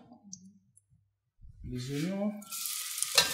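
Onions dropped into hot peanut oil, with a few quiet clicks and a brief murmur before a rising hiss that builds into a bright, steady sizzle, ending in a louder crackling burst.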